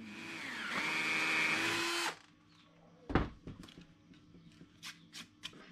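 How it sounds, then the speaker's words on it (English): A power drill with a 9mm bit bores a hole through hardwood on the trailing edge of a small skiff, a loud steady whine for about two seconds. It stops abruptly, followed by clunks and handling knocks. "I'm going to use a 9mm drill bit"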